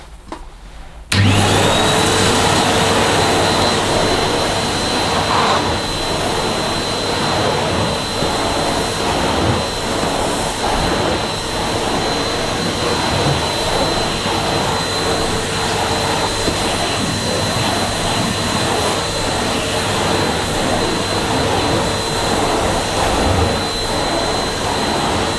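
Numatic Henry vacuum cleaner switched on at maximum suction, a loud steady roaring whine starting abruptly and holding constant while the carpet and floor nozzle is pushed over low pile carpet.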